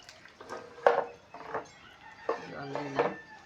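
Water poured into a bowl of panta bhat, soaked rice, with several close splashing and clinking bursts against the bowl, separated by short pauses.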